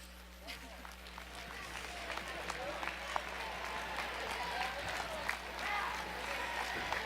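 Audience applause and crowd noise at the Chirpies 2023 student-athlete awards event at Ball State, a steady clapping wash with scattered sharper claps over a constant low hum, some voices mixed in.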